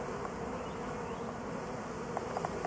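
A swarm of honeybees hums steadily around a swarm box entrance, a dense, even buzz holding at low volume throughout with a few slightly sharper individual bees passing near the end.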